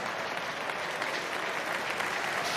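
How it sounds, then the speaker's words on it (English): Crowd at a rugby union match between Harlequins and Bath applauding warmly from one section of the ground, a dense steady clapping that fills the short stretch evenly at a distance, with no talk. "a warm round of applause from the crowd in that particular section of the ground"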